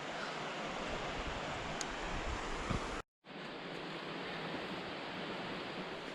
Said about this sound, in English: This is the South Fork of the Holston River right here